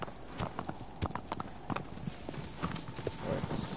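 A horse's hooves clip-clop in a steady galloping rhythm in the video game Shadow of the Colossus, close and continuous over a soft ambient background.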